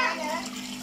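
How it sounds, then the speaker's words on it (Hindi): Water is poured into a cooking pot for rice at a casual home party, making a short, soft splashing gush over a steady low hum. "पानी डाल दिया साहब।"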